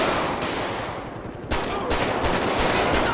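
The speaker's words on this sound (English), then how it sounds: "Everybody's shooting at one time." Gunfire in the video game GTA 5, loud rapid bursts of shots overlapping in a chaotic exchange, with a sharp surge of firing midway and no talking.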